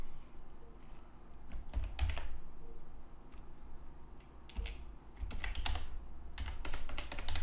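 Close computer keyboard typing in Dreamweaver comes in scattered clusters of quick key taps with brief gaps, over a low steady room hum, with no talking.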